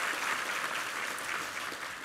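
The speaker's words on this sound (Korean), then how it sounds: "이부 성가대 한번 힘찬 격려의 박수 부탁합니다" Dense, steady applause from a church congregation for the second choir during a Korean Sunday worship service, sustained and fairly distant-sounding throughout, with no talk over it.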